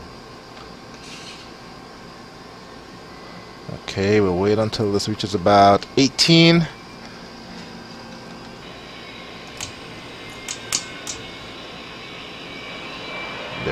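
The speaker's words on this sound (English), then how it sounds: "turn on the left engine." Left engine of an aircraft in the FS2004 flight simulator spooling up during start, a steady low turbine drone under cockpit talk, with a burst of louder mechanical noise partway through.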